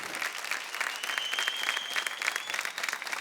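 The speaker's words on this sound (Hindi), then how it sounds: "आज तालियां बजाने में कंजूसी नहीं होनी चाहिए।" Studio audience at a folk singing reality show applauding, a dense, steady burst of clapping with a faint high tone running through it.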